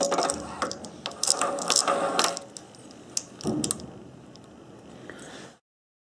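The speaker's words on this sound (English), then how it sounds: "Now we screw this on." A socket ratchet tightening a part onto a Briggs and Stratton engine of a Webb cylinder mower, close rapid clicking bursts with metallic ticks, then fading to quiet.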